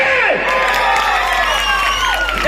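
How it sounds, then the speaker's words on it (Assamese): A festival crowd at a spring celebration stage show applauds and cheers, dense clapping mixed with shouts and whoops, while a voice carries over the steady din throughout. "আমাৰ চাৰিজনৰ কাৰণে হাত তালি"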